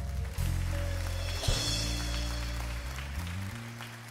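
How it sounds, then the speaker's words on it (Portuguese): A church congregation applauds during a service, moderately loud clapping that runs throughout over a sustained low organ or keyboard chord that shifts partway through. "Aplauda o Senhor."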